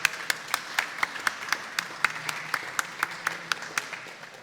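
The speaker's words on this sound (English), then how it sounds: "give yourself a big applause" Scattered clapping from a small audience at a science conference session, sharp individual claps ringing out at a steady pace over a few seconds, no talking.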